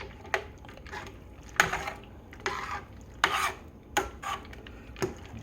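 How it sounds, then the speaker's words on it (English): A spoon scrapes and swirls through pasta in a pot of Hamburger Helper in a series of short, uneven strokes, close by, with no talking. "Stir in your pasta."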